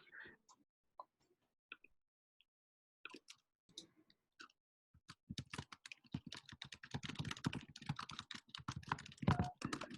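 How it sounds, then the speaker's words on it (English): Computer keyboard typing, starting with a few sparse, isolated key taps and then breaking into a fast, continuous burst of close clicking in a quiet room. "I'm gonna type it."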